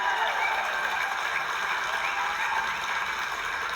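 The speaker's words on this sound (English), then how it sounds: "Maybe another round of applause for her." Steady, dense audience applause for a speaker's guest at a talk, sustained and fairly loud throughout without breaks.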